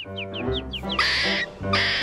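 A quick run of descending chirps followed by two loud, raspy bird calls, close and prominent over a low background hum.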